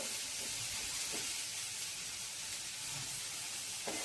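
Sprouted moth beans (matki) sizzle and steam gently in a pan on a gas stove, a steady soft hiss running throughout with faint occasional crackles and no talking.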